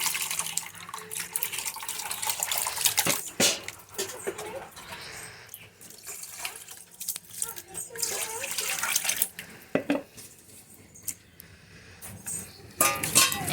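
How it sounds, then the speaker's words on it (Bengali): Water splashing and trickling as pounded, crushed sesame seeds are washed by hand, close and uneven with sloshing bursts, while someone talks over it. "এখন এই তিলগুলো সব ধুয়ে নেব।"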